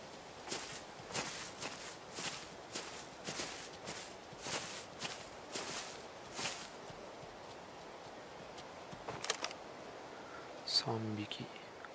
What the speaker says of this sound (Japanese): 足音が聞こえるな向こうの。